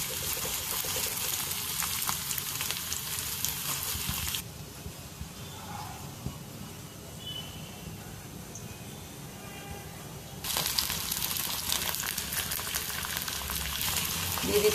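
Garlic and onion frying in hot oil in a pan on a stove, a steady sizzling hiss that dips quieter midway and then swells back up, with no voices.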